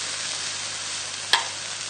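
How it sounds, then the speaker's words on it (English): Vegetables with a sprinkle of soy sauce in a pan for a Chinese chicken thigh stir fry, a steady close hiss of sizzling with a single sharp clink of a utensil near the end, no talking. "just a little sprinkle of about a teaspoon of soy sauce to the veg. Just give that a little stir."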